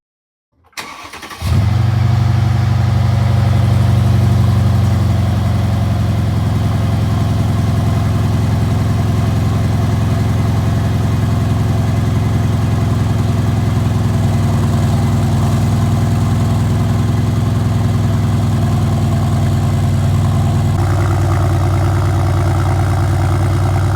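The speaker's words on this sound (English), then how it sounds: "Here's a cold start video of the M278 engine." A Mercedes CLS W218 M278 V8 engine cranks and catches on a cold start, then settles into a steady, loud idle with a deep low rumble that holds unchanged for over twenty seconds.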